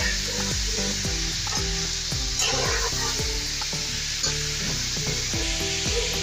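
Partridge karahi browning in a pan, a steady loud sizzle of frying with repeated rhythmic stirring scrapes throughout, no voices.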